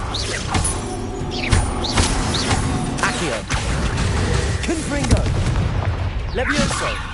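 Fiery Confringo spell blasts in Hogwarts Legacy, a rapid run of explosive booms and bursts layered over continuous game combat noise, loud and close, with magical whooshes between impacts.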